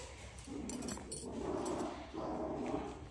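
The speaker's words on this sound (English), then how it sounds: "Those crazy dogs." Dogs in a home at Christmas give soft whimpers and muffled, yipping barks, close and fairly quiet, in short bursts over a low background hum.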